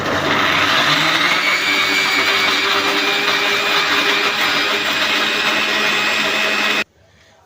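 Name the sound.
mixer grinder (mixie) grinding onions into paste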